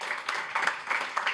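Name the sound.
audience applauding people being introduced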